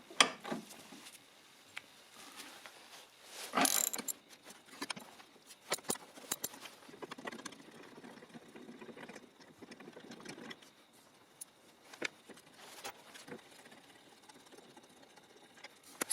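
Rapid clicking of a ratchet with a 13 mm socket undoing bracket bolts on a 1.6 HDi Peugeot Partner, in irregular bursts with scattered metallic taps and clanks, close but fairly quiet.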